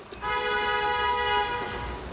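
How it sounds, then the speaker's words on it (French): One sustained car horn blast in busy city traffic, a loud, steady, slightly nasal honk lasting nearly two seconds over rumbling street noise. "quand on entend un coup de klaxon"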